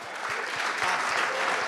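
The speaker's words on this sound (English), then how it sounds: "Round of applause." Audience applause fills an awards ceremony for top sales leaders at a grand hotel venue, a steady dense clapping that holds at an even level throughout.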